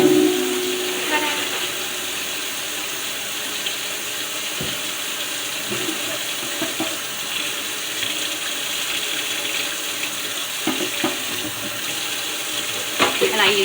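Hot water runs from a kitchen tap through a fridge part being cleaned, a continuous splashing stream with occasional clicks and clunks as the part is handled.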